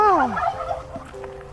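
Several large turkeys at a campsite near Bangkok: one bursts into a loud, close, rapid gobble, which trails off into quieter warbling and a faint hum.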